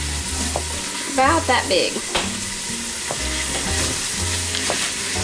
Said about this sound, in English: stirring the celery and all